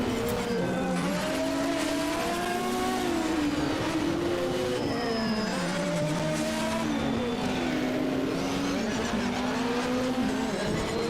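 A race car climbs a mountain course in a European Hill Climb Championship round at Subida al Fito, drifting slightly wide. The engine roars continuously and loudly, its pitch rising and falling through gear changes.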